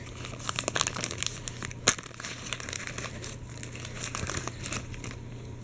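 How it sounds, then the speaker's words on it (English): Crinkly wrapper of a 1991 wrestling trading card pack being torn open, a soft run of crackling and rustling close up, with one sharper rip partway through. "Let's tear into a pack and see what we can pull here."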